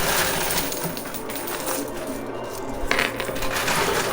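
Quarters dropping in a coin pusher arcade machine, a dense, continuous metallic jingle and clatter of many coins, loud and close throughout with no voices.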